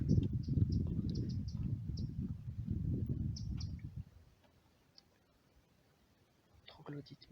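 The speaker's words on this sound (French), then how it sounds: "le petit troglodyte mignon normalement. Il fait un cri bien puissant. Alors que c'est un tout petit oiseau." A Eurasian wren gives short, sharp, high calls in a forest during a heatwave, with faint scattered notes over low rustling and nearby talking.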